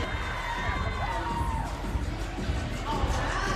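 Basketball crowd at the Siegel Center on its feet during a VCU versus Saint Joseph's game, a sustained roar of cheering and shouting that fills the arena, steady and loud throughout.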